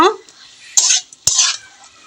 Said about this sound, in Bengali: এখন আমি যে ফুলকপি আর আলুটা দিয়ে দিয়েছি একটু ভাজা ভাজা করে নিব আর একটু ভালো করে কষিয়ে নিব